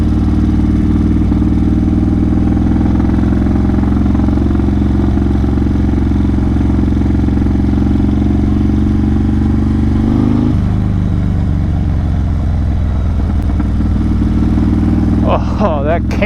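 A cammed engine in a Jaguar F-Type accelerates in first gear while cruising, a loud steady low drone that rises through the revs, then shifts and settles after about ten seconds, with a faint voice near the end.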